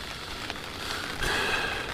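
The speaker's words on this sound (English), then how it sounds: "Raining as well." Rain falls on a tent at night, a steady close hiss of drops pattering on the fabric, with a few louder individual taps and no voices.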